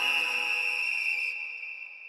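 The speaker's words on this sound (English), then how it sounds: "There's the whistle. Once it's blown, we know the judges have declared a victor." A referee's whistle blown to declare the winner of a fight, a single sustained shrill tone held steadily and then trailing off with a fading ring.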